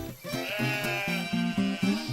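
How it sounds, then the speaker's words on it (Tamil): Lambs bleating in a children's animated story, a run of repeated, rhythmic, voiced bleats close up and fairly loud, with no talking over them. "ஷர்லி, பர்லி, கர்லிங்கிற 3 ஆட்டுக்குட்டிகளும் அன்பான சகோதரர்கள்"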